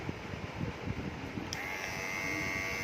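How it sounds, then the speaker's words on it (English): A small electric beard trimmer switches on midway and hums steadily with a high whine, close by, after a stretch of handling noise. "you can feel the sound of the trimmer"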